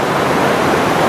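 A powerful river in Dominica rushing hard, a dense, steady, close roar of water with no voices.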